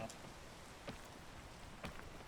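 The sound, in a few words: rain in the video game PEAK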